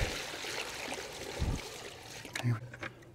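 Fresh water is poured for kune kune pigs, making a close, uneven trickle and splash with gurgles and a couple of louder splashes near the end. A voice speaks briefly over it.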